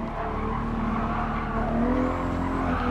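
Turbocharged Toyota Supra racing in Gran Turismo Sport, a loud, sustained engine drone with rising pitch as it accelerates, mixed with tire squeal and other cars, no talking.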